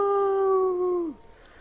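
A dog in the Spelunky video game lets out a single sustained tonal howl, clear and loud, holding steady before sliding down in pitch and cutting off.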